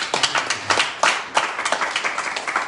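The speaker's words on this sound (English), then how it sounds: "everybody give the Lord a hand clap" A church congregation claps hands, a brisk burst of close, sharp claps with a few louder accents, fairly sparse and short-lived.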